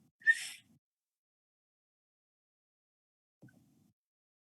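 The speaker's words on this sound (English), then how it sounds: "It was a varied thrush." A varied thrush gives one buzzy, whistled note in the quiet outdoors, followed by long silence and a faint, low sound near the end.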